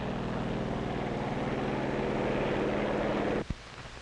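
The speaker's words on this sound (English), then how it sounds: "Also taking off from the carrier are control planes that will guide the radio-controlled drone boats." Propeller-driven control planes roar off the deck of an aircraft carrier at Bikini Lagoon during Operation Crossroads, a loud, continuous droning engine rumble that cuts off abruptly near the end with a single thump.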